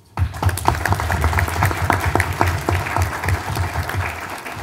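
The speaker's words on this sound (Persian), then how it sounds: "آقای جعفری رو هم تشویق کنید." Audience applause at a Persian-language talk on elite emigration: a dense, steady burst of many hands clapping, loud and sustained throughout with no talk over it.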